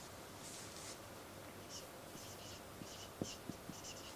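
Pen writing on paper during a classroom grammar lesson, a faint continuous scratching with soft strokes and a few light taps, quiet and close, with no talk over it.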